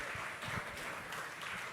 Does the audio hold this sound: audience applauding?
yes